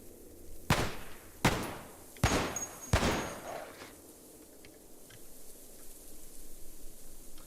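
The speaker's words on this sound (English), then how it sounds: "M249, machine gun." M249 machine gun shots in the game Cataclysm: Dark Days Ahead, four sharp separate bursts spaced under a second apart and then fading into a low hiss, with no talk.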